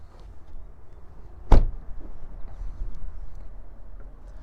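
A single sharp pop from the fuel filler door release on a 2020 Honda Pilot EX-L, close and clear over a low steady background hum.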